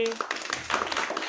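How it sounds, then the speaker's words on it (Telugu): Brief bursts of hand clapping from children, quick and close, mixed with light talking. "చప్పట్లు కొట్టండి"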